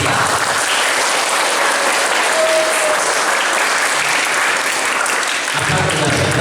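Loud, dense applause from a church congregation at a thanksgiving service, sustained and even throughout, close and filling the room before cutting off near the end.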